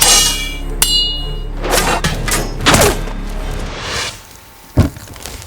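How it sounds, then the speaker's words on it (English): Metal clanking on metal in a film sound effect, several loud ringing strikes and thuds spaced irregularly, with a sharp final clank near the end. "There's the clank of the metal on metal."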